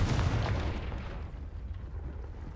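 A Confringo fire spell bursts in the Hogwarts Legacy video game, a loud, close boom at the start that rolls into a rumbling, fading roar over the next couple of seconds.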